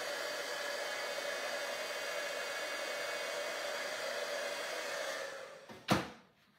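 A heat tool warms one side of a crystal-white ornament with a steady, loud blowing hiss that runs for about five seconds, then cuts off, followed by a single sharp click.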